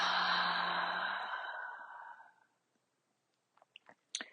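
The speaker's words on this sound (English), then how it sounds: "And then exhale." During a breathing exercise, a long, close, breathy exhale fades out over about two seconds, followed by silence and a few faint mouth and breath clicks.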